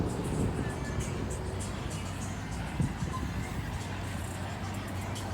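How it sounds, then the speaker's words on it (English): Street traffic at the Speightstown bus terminal in St. Peter, Barbados, where yellow and blue minibuses and government buses gather: a steady, fairly loud rumble of idling and passing vehicles with a brief bump near the middle, continuous throughout. "And this is the bus terminal here."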